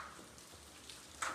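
Steady overnight rain falls on a surface in a continuous wash, with a brief louder patter near the end.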